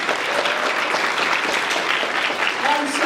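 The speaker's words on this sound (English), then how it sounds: "Give them a big round of applause." Audience applause for a panel on young Black rap artists, steady crowd clapping with some voices mixed in beneath.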